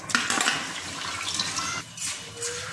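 Water is poured into a pressure cooker for mushroom biryani, a steady splashing and gurgling stream that eases off briefly, then continues, close by with no talking.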